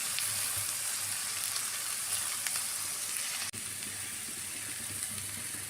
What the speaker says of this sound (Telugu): వేసి వీటిని కూడా లైట్గా ఫ్రై చేసుకోవాలి.